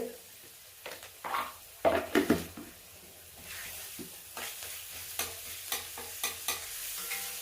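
Garlic sautéing in a pan, stirred repeatedly, with a soft sizzle broken by intermittent scraping and clinking strokes that come in short bursts, close and moderately loud.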